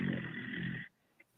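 A man snores during a Zoom court hearing: one loud, rasping snore breath heard close up, followed by near silence and a faint click.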